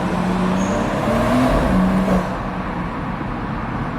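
A BMW M240i six-cylinder engine drones steadily inside a road tunnel, loud and close with a constant wash of echoing road noise and a slight swell midway.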